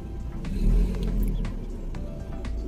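An Opel car engine during a diagnostic check, low rumbling idle that swells briefly as throttle is added, then settles back, heard close without talk.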